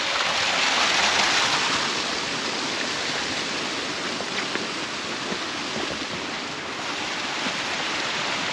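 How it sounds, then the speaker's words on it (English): Rushing waterfall in a freezing woodland, a dense, steady roar of broadband water noise that fills the whole stretch evenly and sounds close, with no voices. "I'm back at the waterfall."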